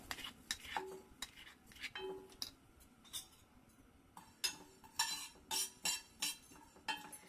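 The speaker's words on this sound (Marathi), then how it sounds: "याच्यामध्ये आपण आता धने घेऊया, छानसे असे भाजून घेऊया।" Coriander seeds dry-roasting in a pan, faint scattered clinks and scrapes of a spoon stirring against metal, irregular taps growing busier toward the end.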